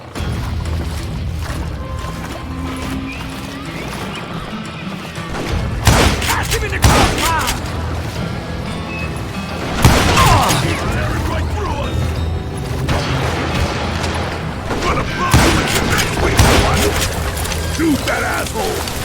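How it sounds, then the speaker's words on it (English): Gunfire in the shootout game Call of Juarez: Gunslinger, loud repeated volleys of shots and booms over a continuous noisy battle bed, with voices speaking throughout. "a fusillade of bullets come raining down from on high"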